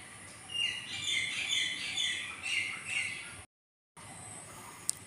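Tiny long-billed birds chirp and squawk busily from a flowering bush, a run of bright, quick calls close by, with a brief gap of silence and a sharp tick near the end.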